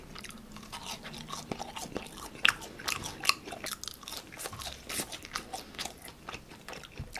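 Close-miked crunching of Burger King seasoned potato fries: repeated crisp bites and wet chewing in an irregular flow over several seconds, with a few sharper crackling snaps and no talking.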